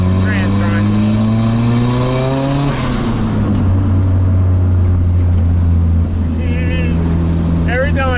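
A Nissan 180SX with a large exhaust leak drives along, its engine droning loudly and steadily, pitch climbing through revs and shifting, heard from inside the car.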